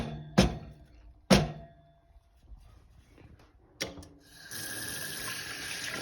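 A detachable coffee machine part is rinsed under a running kitchen tap, with two sharp knocks against the sink at the start, another thunk, then a steady rush of water filling and splashing for the last couple of seconds.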